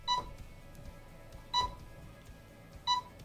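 A Sony A7IV camera gives three short, faint electronic beeps in its menu system, evenly spaced about one and a half seconds apart against quiet background hiss.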